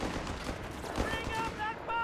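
Machine gun fire in Company of Heroes 3, a strategy war game, heard as bursts of distant gunfire and battle noise mixed with a steady background rumble.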